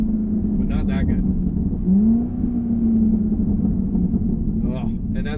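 A 2020 Chevrolet Corvette C8 with its mid-mounted engine gives a steady, deep rumbling drone with a slight swell partway through, loud and close, while someone speaks briefly at the start and again near the end.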